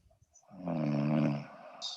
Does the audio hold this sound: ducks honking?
no